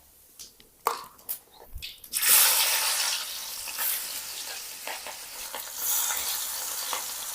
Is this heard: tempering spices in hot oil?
yes